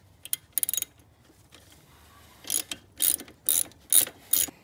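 A hand ratchet works on the rear brake caliper of a 1981 Honda CB900C motorcycle, giving a few short clicking bursts early on, then a run of five or six louder, evenly spaced ratcheting strokes close by, with no talking.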